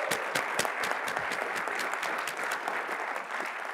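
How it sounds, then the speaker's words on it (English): Audience applause at a cancer-research healthcare event, a dense, steady burst of clapping from a sizeable crowd, close and sustained for the whole few seconds without speech. "a round of applause for Chancellor Elliman."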